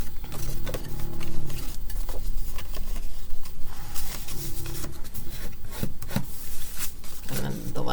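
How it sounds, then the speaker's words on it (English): Folded paper for an accordion panel card is burnished by hand, giving repeated dry rubbing and scraping strokes with soft taps and handling noise throughout. "So fold and burnish."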